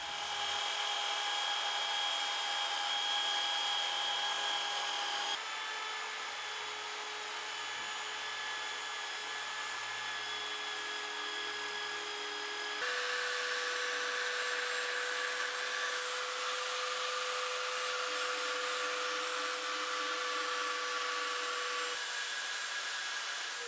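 A power sander drones continuously and steadily while sanding the outside of a wooden bowl, its tone shifting a few times as it works against the wood, with no talking.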